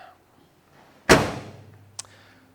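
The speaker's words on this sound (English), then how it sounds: "Dome light illuminates when I open up the driver door." Driver door of a 1968 Chevrolet Camaro SS opening with one loud, close latch clunk that rings out, then a short sharp click a moment later, with a quiet room before it.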